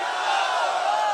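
Rally crowd at Sanjay Chowk in Bhadra cheering and chanting slogans to welcome BJP candidate Sanjeev Beniwal, a dense, sustained roar of many voices at moderate distance.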